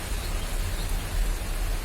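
Steady rain pours outdoors in Pondok Aren, Tangerang Selatan, making a continuous broadband hiss with no breaks and no voices.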